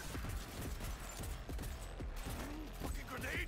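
Gunfire from the video game Cyberpunk 2077, a dense, continuous clatter of shots coming from several directions, with the individual bursts blurring into a steady roar.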